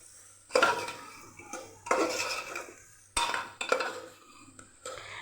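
Mixed dal khichdi is sautéed with masala in a pot. Four bursts of stirring and scraping sound close by, with metal spoon clinks against the pot and a faint sizzle between them.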